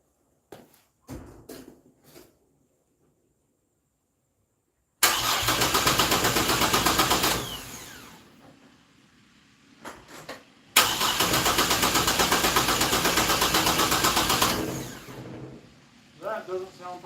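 A 1949 Chevrolet fitted with a 4200 Vortec engine cranks for its first start: brief clicks and short cranking bursts, then a long loud churning crank, a pause with faint talk, and another sustained cranking run.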